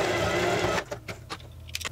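A sewing machine stitches a diagonal seam on a puff sleeve for a blouse. It makes a loud, steady mechanical whirr for under a second, then stops, followed by a few light clicks and handling taps.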